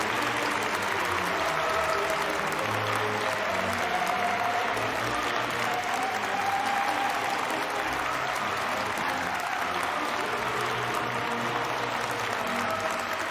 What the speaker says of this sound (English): please send again all our laureates a very warm round of applause